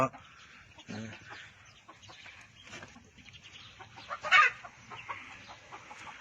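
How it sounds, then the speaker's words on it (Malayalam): Native village chickens cluck and call intermittently at close range, with one louder squawk partway through over a noisy outdoor background. "കോഴികളാണ് നാടൻ കോഴികൾ"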